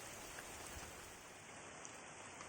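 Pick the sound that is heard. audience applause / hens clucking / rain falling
rain falling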